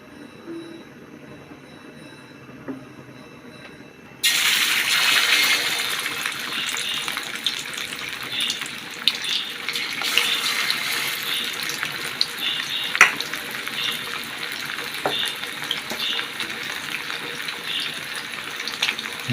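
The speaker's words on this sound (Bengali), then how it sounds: "আমাদের মাংসগুলো দিয়ে দিলে আস্তে আস্তে ভাজি হয়ে যাবে" After a few quiet seconds, a loud, steady sizzle of chicken frying in hot oil in a wok starts abruptly and keeps crackling and spitting throughout.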